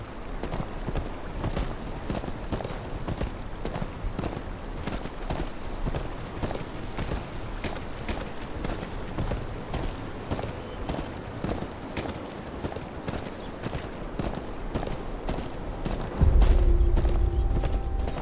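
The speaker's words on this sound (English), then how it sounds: "Where's your horse? Mount up and let's go." Horse hooves clip-clop steadily in a Game of Thrones Kingsroad video game scene as a rider travels the road. The quick, even hoofbeats run continuously and are close and clear throughout.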